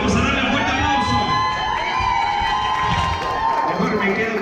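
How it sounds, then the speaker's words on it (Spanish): A party crowd at a quinceañera celebration cheers, whoops and claps loudly and continuously, with children shouting and voices mixed into the dense roar. "vamos a darle un fuerte aplauso"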